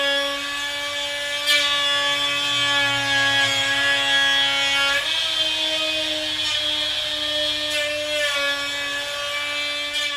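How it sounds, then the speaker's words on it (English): A router rides a sled across a black walnut tabletop on a final flattening pass, giving a steady, loud, close whine with a strong sustained tone that shifts pitch slightly as the bit bites the wood; no voices. "we've got the router sled all set up to put the final pass on the tabletop"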